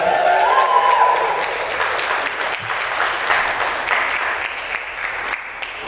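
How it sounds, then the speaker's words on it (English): Crowd at a Green Party political rally breaking into a steady, dense round of applause that fills the space, loud and sustained throughout, thinning slightly toward the end, with no speech over it. "Big cheer. Big round."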